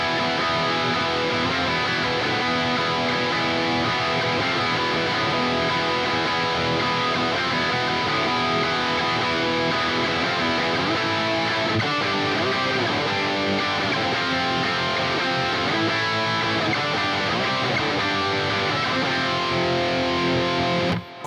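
Electric guitar playing an intro riff with a sitar-like effect, a dense distorted, buzzing tone that sustains steadily and loudly for about twenty seconds with no talking over it.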